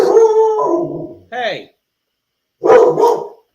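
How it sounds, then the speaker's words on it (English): A dog barks and howls loudly near a microphone in a home setting, one long drawn-out howling bark, a short yelp, then after a pause two more close barks. "Hey, stop barking."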